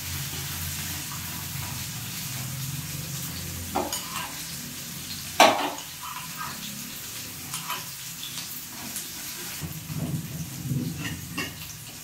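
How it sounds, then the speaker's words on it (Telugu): Ginger pieces fry in a pan over a medium flame for mint chutney, sizzling softly under repeated stirring and scraping, with one sharp utensil clank partway through. "అల్లం ముక్కలు అయితే బాగా వేగాలండి."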